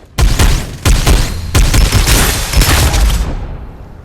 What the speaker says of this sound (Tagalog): Nakikipagpalitan ng putok!